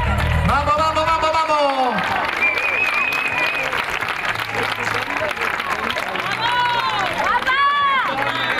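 A festival crowd at the Romería de las Lagunas 2022 applauds during an awards presentation: steady, loud, dense clapping throughout, with an amplified announcer's voice rising over it at the start and near the end.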